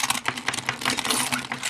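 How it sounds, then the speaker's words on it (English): A metal key scraped hard across the screen of a Nokia Lumia 920 smartphone, giving a steady run of gritty rubbing and clicking strokes, close and fairly loud, with no talking. "So we'll go ahead and use a key on it directly."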